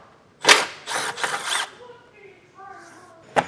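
Screws come out of the wheel well liner on a 2024 Jeep Grand Cherokee, with several close, quick ratcheting and clicking tool bursts followed by softer handling sounds and a final sharp click.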